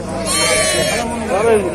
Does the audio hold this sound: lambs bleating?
yes